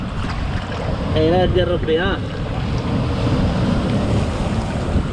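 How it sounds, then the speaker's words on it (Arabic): Wind buffets the microphone aboard a small fishing boat off the Moroccan coast, with the steady rush of sea waves beneath it. Someone speaks briefly in the middle over the constant noise. "يا اجواء ديال البحر"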